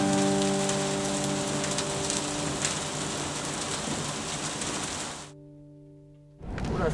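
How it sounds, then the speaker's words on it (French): Heavy rain downpour pours outside during a storm in Tornado Alley, a loud steady roar that cuts out briefly near the end and then surges back. "là c'est le gros déluge dehors"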